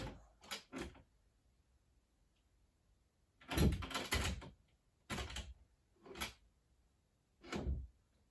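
Knocks and wooden clunks from an IKEA OXBERG door being fitted onto a Billy bookcase, five separate bursts of thuds and rattles spaced across the stretch, with quiet gaps between them.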